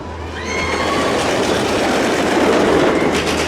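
The Big Dipper roller coaster train at Blackpool Pleasure Beach rumbles and clatters along the track at night at steady loudness, with faint high squeals above the low roar.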